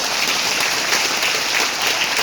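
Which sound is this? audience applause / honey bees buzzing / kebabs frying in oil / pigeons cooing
audience applause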